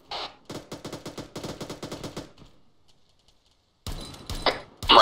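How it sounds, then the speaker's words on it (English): Automatic machine gun fire in the TacBF military game: two long rapid bursts of evenly spaced shots, a short silence, then heavier closer bursts and blasts at the end. "I'm covering you with the MG."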